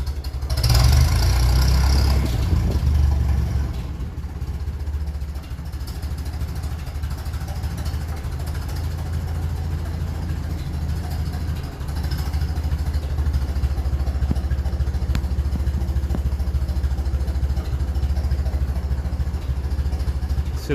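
A 1957 Ferguson 35 TVO tractor engine gives a short rev, then settles into a low, steady, rumbling idle with light mechanical clatter, close and continuous.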